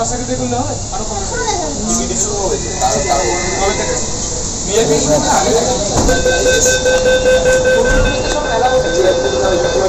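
Metro train running between stations, a steady rumbling rail roar with hiss throughout, while a recorded announcement speaks over it and other voices talk nearby.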